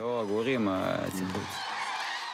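Migratory birds call in a short burst of honking, goose-like cries, a few overlapping harmonic calls up close followed by fainter noisy chatter.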